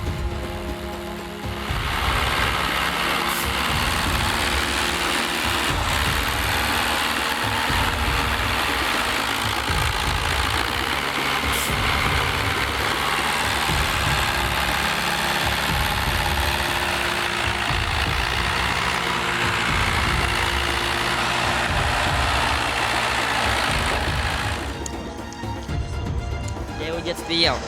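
Tractor engine running in a forest while hauling wood, a steady, moderately loud idling rumble with knocking texture that holds for most of the stretch and then drops away near the end.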